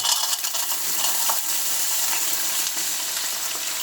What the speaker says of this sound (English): we're now going to fry some onions and some peppers